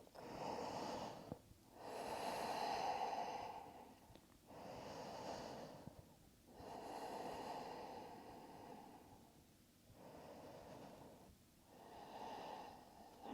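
Slow, deep yoga breathing during a low-ab and hip flow, long soft breaths in and out in a steady rhythm, close and faint, with no talking.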